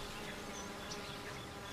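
Honey bees buzz softly while foraging among flowers, a faint continuous drone with a hissy background and no clear breaks.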